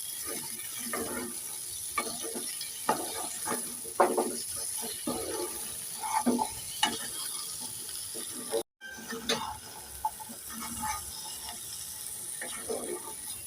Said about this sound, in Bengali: কেটে রাখা ঢেঁড়স একটু নেড়ে চেড়ে দিয়ে দেবো